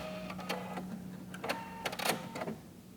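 A sewing machine reverse stitching through a foundation paper-pieced quilt pattern, whirring in short mechanical bursts with a steady hum underneath, close by and moderately loud.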